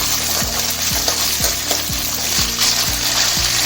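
Green chilies and garlic fry steadily in hot oil, giving a continuous bright sizzle. A spoon scrapes the pan in regular, repeated strokes underneath, and no one speaks.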